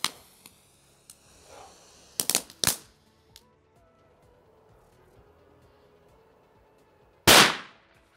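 Mini Ninja firecrackers go off outdoors: a quick cluster of three sharp cracks about two seconds in, a lull with faint small pops, then one louder, fuller bang near the end.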